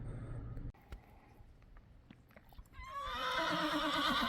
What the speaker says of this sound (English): because there's like a bajillion horses